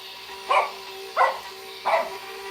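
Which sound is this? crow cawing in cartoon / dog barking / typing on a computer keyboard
dog barking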